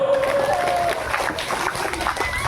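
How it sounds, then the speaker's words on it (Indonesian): An audience of women at an Isra Mi'raj religious gathering at an Islamic boarding school anniversary claps together in a short burst of scattered applause, mid-distance and moderately loud, with a voice heard over the start. "Tepuk tangan dulu."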